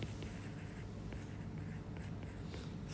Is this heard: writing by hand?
yes